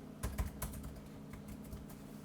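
Fingers type a username and password on a computer keyboard: a quick, uneven run of soft key clicks, a few louder taps at the start, close and alone in a quiet room.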